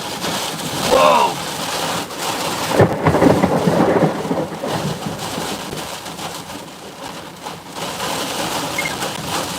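Thunder from a supercell storm rolls and cracks over steady rain, with loud booms near the start and middle and a constant wash of rainfall throughout.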